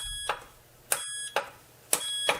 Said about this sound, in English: it makes a beep when you change things